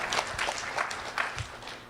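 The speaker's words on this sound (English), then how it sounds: "Round of applause then for Leah Valente." Applause from a modest audience at a civic event, a steady patter of many hands with a few louder claps standing out, moderately close and fading slightly toward the end.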